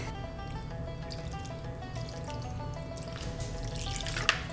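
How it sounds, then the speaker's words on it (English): Soy sauce and lime juice trickle into a hot pan of keto chicken, a steady soft liquid pour with drips near and close, no talk, ending in a sharp little splash. "I'm gonna add some soy sauce. And lime juice."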